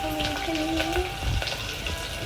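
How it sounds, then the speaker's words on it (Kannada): Onions and green chillies frying in oil in a pan, a steady close sizzle with some faint stirring scrapes and a low background hum throughout. "ಈರುಳ್ಳಿ ಬ್ರೌನ್ ಕಲರ್ ಆಗೋವರೆಗೂ ಫ್ರೈ ಮಾಡ್ಕೊಬೇಕು"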